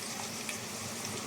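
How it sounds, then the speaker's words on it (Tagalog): Onion and garlic sautéing in a pan, a steady close sizzle and crackle of frying with no talk, even and unbroken throughout. "At tayo ay mag-start ng mag-gisa ng ating sibuyas at"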